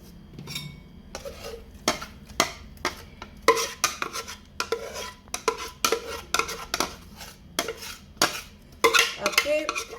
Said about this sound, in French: maintenant, on va mélanger dans la viande